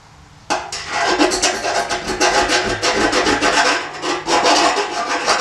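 A chainsaw file rasps back and forth in quick, repeated strokes, filing a burr on a 1969 Valiant fuel pickup, close and loud, starting abruptly after a brief quiet moment.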